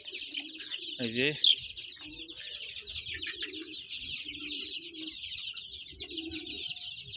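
Native chicken chicks peep in a coop with a continuous, fairly faint high chirping chorus, and someone speaks briefly nearby.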